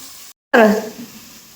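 Onion paste gravy masala hitting a hot pan, a sudden loud sizzle after a brief silence that quickly fades to a softer simmering crackle, close up and short.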